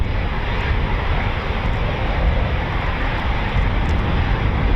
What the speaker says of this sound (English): The Typhoon FGR4